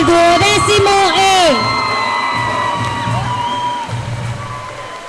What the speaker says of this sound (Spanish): Y damos un fuerte aplauso a la consejería del duodécimo E.